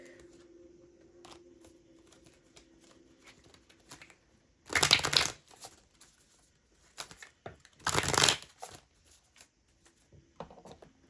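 Tarot cards riffle and slap during a shuffle, two loud bursts standing out among softer scattered card handling and taps, close up with no talking.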